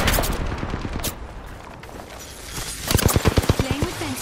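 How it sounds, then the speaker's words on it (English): Video game combat with a grenade in play: a burst of rapid gunshots opens, then a loud, close string of sharp shots returns near the end, with speech-like sounds mixed in. "I'm taking shots. Under fire."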